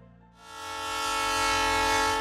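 A train horn at a railway station swells from quiet into a long, loud, steady blast that holds to the end, with train rumble underneath.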